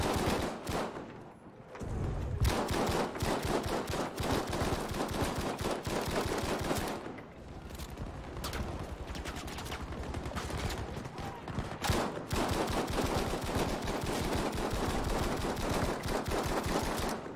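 Bren light machine gun firing in Battlefield V, near-continuous rapid bursts across a loud battlefield with dense overlapping gunfire, brief pauses between strings of shots.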